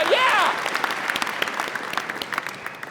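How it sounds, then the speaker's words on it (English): Audience applause at a keynote talk rises after a brief cheer at the start, then thins into scattered claps that fade out. "That round of applause is very important, right?"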